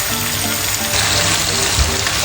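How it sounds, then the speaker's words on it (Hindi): Chicken for biryani fries in a pot, producing a loud, dense, continuous sizzle and bubbling hiss close up, steady throughout with a faint low rumble beneath. "अच्छी तरह इसकी हम भुनाई कर लेंगे 5 से 10 मिनट इसको भून के।"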